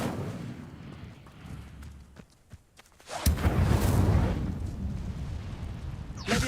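Incendio fire spell cast in the Hogwarts Legacy video game: a quieter stretch gives way to a sudden loud whooshing burst of flame that roars for a few seconds, then tails off before another sharp hit at the end.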